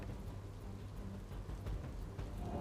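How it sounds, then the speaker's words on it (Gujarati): Heavy, unbroken rain falls over Palanpur as a soft, steady hiss and patter with a low rumble beneath, faint and even across the short stretch. "પાલનપુરમાં છેલ્લા પોણા કલાકથી અવિરત વરસાદ વરસી રહ્યો છે।"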